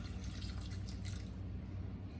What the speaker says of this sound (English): But I'm gonna pour some chicken stock in